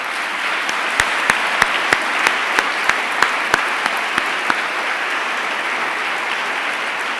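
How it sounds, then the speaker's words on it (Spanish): A church congregation applauds steadily, a sustained wash of clapping with a series of sharper, rhythmic claps standing out over the first few seconds. "Denle un aplauso fuerte al Señor."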